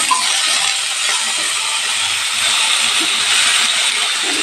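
Vegetables fry in hot oil with bay leaves and cumin seeds, a loud, steady, close sizzle with a constant hiss and no pauses.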